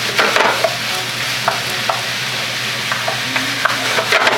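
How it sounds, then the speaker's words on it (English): Cubed pork seasoned with black pepper browns over high heat in a hot pan, a loud steady sizzle broken by occasional clicks of stirring, with no talking. "we have our cubed pork going in the pan now, just browning that up"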